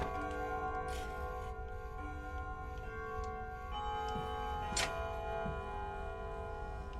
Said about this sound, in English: It was just a clock noise.